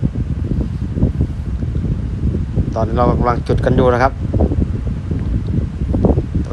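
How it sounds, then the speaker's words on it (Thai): Strong wind buffets outdoors in a continuous low roar across the microphone while someone speaks briefly partway through. "ลมแรงมากเลย"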